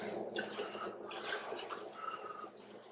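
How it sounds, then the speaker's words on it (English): Water is poured by hand into a mixing bowl for cast iron cornbread batter, giving a soft, continuous splashing trickle close by at low level. "You notice I'm pouring water in my hand."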